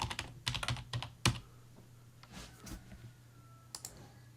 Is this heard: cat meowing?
no